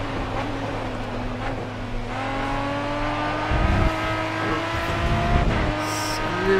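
Race car engine in the Grid Autosport video game, a steady high-pitched drone that climbs and drops in pitch through gear changes, close and continuous with brief tire and throttle surges.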